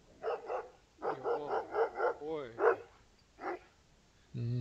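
A large dog barks in several quick bursts, pauses, then barks once more, fairly close and loud, with a person speaking nearby, outdoors in Estonia's Vooremaa and Pandivere countryside.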